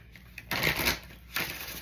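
A deck of oracle cards is shuffled by hand in two short, crisp bursts of riffling, close and fairly quiet, with near silence around them.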